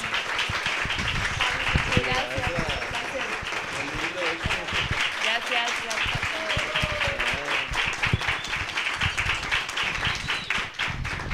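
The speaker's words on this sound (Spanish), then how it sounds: "un aplauso para Fabio Rubiano" Audience applause for Fabio Rubiano at a talk on drama, a continuous mass of clapping hands with voices talking over it throughout.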